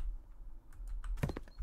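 Faint clicking of computer keyboard keys during a House Flipper gaming session, a short burst of a few quiet taps near the end over low background hum.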